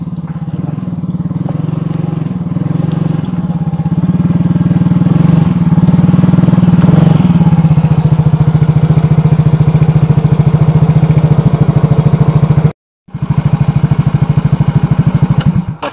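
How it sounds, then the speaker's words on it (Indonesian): A motorcycle engine runs continuously and loudly close by, a steady rhythmic putter holding for the whole stretch with a brief cut near the end before resuming. "Motor saya jore amat."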